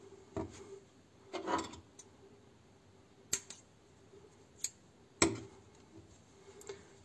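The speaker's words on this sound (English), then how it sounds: "And now we can cut these yarns." Scissors snip through crochet yarn in a handful of sharp, separate cuts with quiet pauses between them, close and fairly soft, with no talking.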